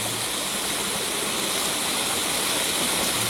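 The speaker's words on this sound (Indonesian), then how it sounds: "Jadi ketinggian air terjun ini sekitar 10 meter" A roughly ten-metre waterfall pours in a steady, loud, broadband roar that stays even from start to finish, with fine spray hiss and no voices over it.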